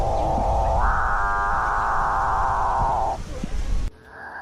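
A capuchinbird, or calfbird, gives a single drawn-out, low mooing call, loud and close, that swells and holds for a few seconds before cutting off, with forest ambience around it and no talking.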